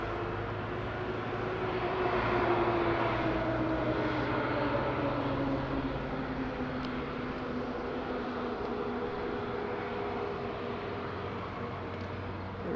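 A TAP Air Portugal Airbus A320neo arrives at Madeira Island Airport, its engines whining with a descending tone over a steady broad roar, heard from a moderate distance with no voices.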